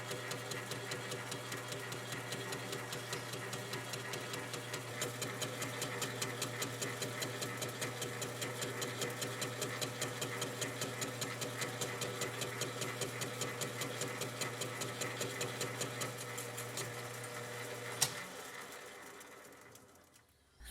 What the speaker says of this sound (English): This is an easy cut on the lathe, and it was a quick setup